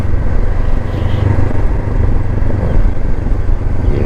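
Motorcycle riding along a mountain road to Sagada, a steady loud engine drone mixed with wind rumble throughout, close and continuous.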